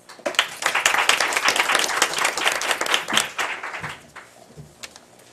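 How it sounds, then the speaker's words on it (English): An audience at a school district event gives a warm round of applause, dense clapping that rises quickly, holds for about three seconds, then tapers to a few scattered claps. "Can we please give them a round of applause?"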